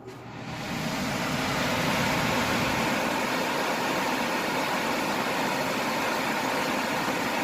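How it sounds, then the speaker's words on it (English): A household furnace blower motor spins up right after being plugged in and settles into a steady, loud, even whir and hum that continues alone to the end. "We're going to plug it in right now, and our blower motor should turn on."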